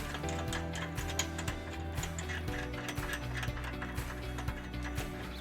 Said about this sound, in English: Now we're going to torque all the bolts to manufacturer specifications.